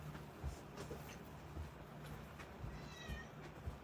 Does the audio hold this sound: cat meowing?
yes